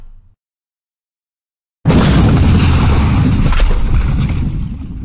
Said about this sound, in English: Oh, look, the explosion blasted us to safety.